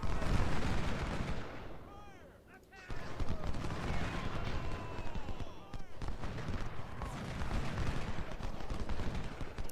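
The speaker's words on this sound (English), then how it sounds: "We're going to get one more round of artillery in there" Artillery and musket fire from a Civil War battle at Port Republic in the strategy game Ultimate General: Civil War, with dense overlapping booms and crackling volleys, a brief lull, then sustained gunfire, while a voice talks over it.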